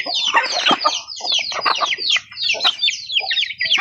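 Several chickens cluck and squawk close by in quick, overlapping bursts, busy and irregular, with short pauses between flurries.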